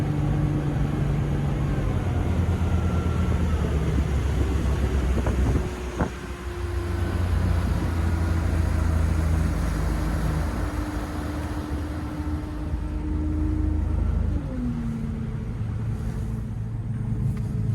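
A steady, droning engine of a Monterey 180 FS motorboat on plane at full speed roars continuously with wind rumble over the microphone, its pitch rising slightly near the end as the motor works harder.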